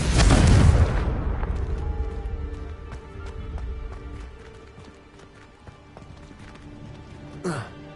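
A Confringo fire spell explodes in Hogwarts Legacy with a loud, sudden blast that fades over a second. Quieter game sounds follow, including scattered clicks and taps and a brief whoosh near the end.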